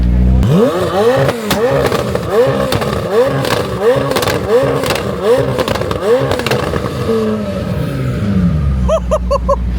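A McLaren supercar roars hard in a roll race on a Dubai road, its engine note rising and falling through repeated rev sweeps, loud and close, before easing off as voices come in.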